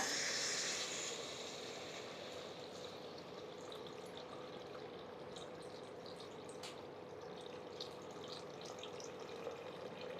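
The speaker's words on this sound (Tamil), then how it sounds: "தண்ணி ரெண்டரை கப்பு தண்ணி ஊற்றுறேன்" Water pours into a cooking pot in a steady, continuous stream, about two and a half cups, louder at first and then settling into an even rushing flow close by.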